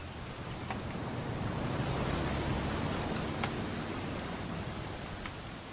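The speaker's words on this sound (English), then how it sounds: "It's gonna rain the whole weekend," Steady rain falls in What Remains of Edith Finch, a continuous even hiss with occasional faint drips, no voices.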